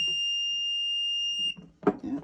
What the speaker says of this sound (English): so it gives a satisfactory beep